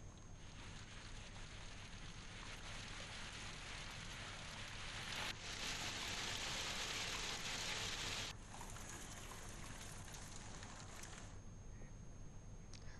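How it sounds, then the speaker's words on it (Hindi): Rain and hail pour down across farmland, a dense, steady hiss that swells louder for a few seconds in the middle, with no voices. "बारिश के साथ ओले की बरसात हुई।"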